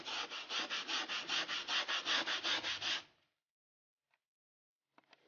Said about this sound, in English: Just got through finishing up on the sanding.